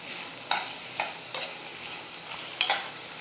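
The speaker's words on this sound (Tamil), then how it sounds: "வெங்காயம் வந்து நல்லா வதங்கணும்" Onions frying in oil with spices, stirred with a utensil: a soft sizzle under five distinct scraping strokes spaced roughly half a second apart, close and alone.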